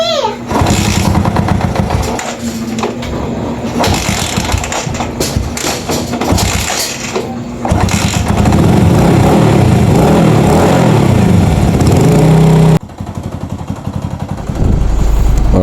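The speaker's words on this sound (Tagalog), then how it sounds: "Alright, umaandar na mga boss. So, medyo maingay lang yung makina niya." A Bajaj Rouser 135 motorcycle with loose compression idles loudly and roughly, its engine note steady and close throughout, with a few thumps and changes in tone near the end.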